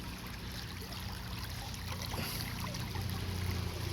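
Creek water running over a small waterfall, a steady, close rushing and trickling wash that holds level throughout, with no voices.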